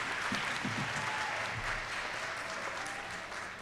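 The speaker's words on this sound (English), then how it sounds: "Let's give another round of applause to the students who received the Academic Department" Audience applause at a college graduate awards ceremony honoring students, a steady wash of clapping from a large crowd heard at a distance, fairly faint and gradually tapering off.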